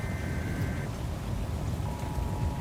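Hail falling in the video game Twisted, a steady dense patter like heavy rain on surfaces, continuous and fairly loud throughout with no talking.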